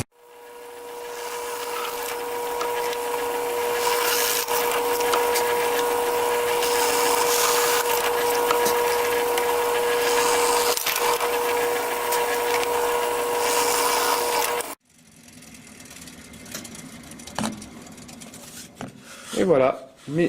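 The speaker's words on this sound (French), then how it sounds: "mes 6 trous sont bien percés" Power drill boring holes into wood for a homemade foosball table, a loud steady whine with grinding rasp running continuously for about fifteen seconds, then stopping abruptly and leaving quieter handling clatter and scraping.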